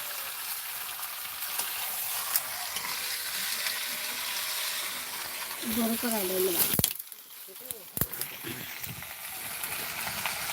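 Chicken frying in a pan in a home kitchen, a broad steady sizzle that runs through the clip. A few clinks and bumps break in near the end.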